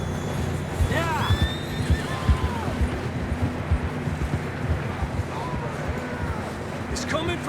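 A horse whinnies clearly in Red Dead Redemption 2 during a wolf chase, with hoofbeats clopping and wind blowing throughout and a voice talking over it.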